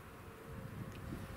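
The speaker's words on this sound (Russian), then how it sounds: "все пчелы, которые возвращаются, практически с пыльцой" Honey bees fly back to their hive carrying pollen after wintering, a soft, close buzzing hum that continues steadily for a moment.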